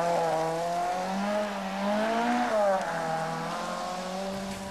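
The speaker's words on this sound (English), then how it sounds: "the little Group B Citroën Visa, the smallest four-wheel drive rally car available" A small Group B Citroën Visa four-wheel drive rally car on a 1984 Lombard RAC Rally stage, its engine note holding steady with a slight rise and fall as it runs continuously at a distance, loud and alone.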